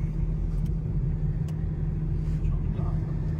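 A BMW driving along, with a steady low engine and road rumble throughout and people talking inside the car over it.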